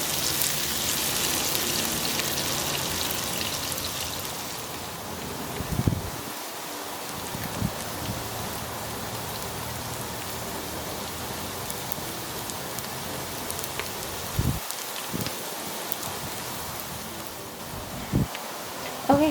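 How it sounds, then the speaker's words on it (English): Chopped onions and pimento peppers sauté in a pan, a steady broadband sizzle running throughout with a few louder scrapes or clicks near the start and again in the final seconds. "go in with some chopped onions and some chopped pimento peppers, and allow that to saute until it's nice and tender and light brown"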